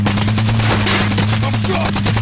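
Rapid, sustained gunfire from Call of Duty Warzone rattles loud and close throughout, a dense automatic burst with no pauses and no talk over it.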